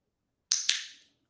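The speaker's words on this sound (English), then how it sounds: "I'm not going to click the first time he puts his mouth on it, but on the second time I'm going to click" A dog training clicker gives two sharp, close clicks about a fifth of a second apart during a sock-removal trick session, then silence.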